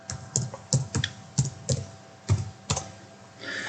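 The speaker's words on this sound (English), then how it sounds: "type GeoGebra" A computer keyboard being tapped while a search term is entered in a browser, about eight distinct soft key clicks at an uneven pace, close and quiet in a still room.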